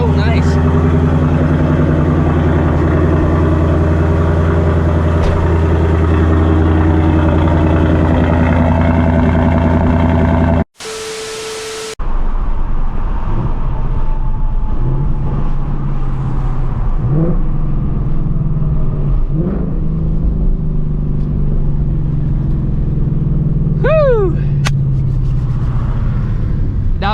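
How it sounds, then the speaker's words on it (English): A Ford Mustang S650 in its regular exhaust mode runs with a deep, steady rumble after a cold start. The engine is loud and close, idling at first, then lighter revs continue under someone talking. "Nice little cold start, man. Got that deep exhaust."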